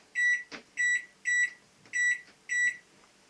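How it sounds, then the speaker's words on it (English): Five short electronic beeps from the control panel of a Sharp R372M 900W microwave oven while the power level is being set, evenly spaced and clear in a quiet kitchen. "You go for the power level and you bring it down all the way to 0."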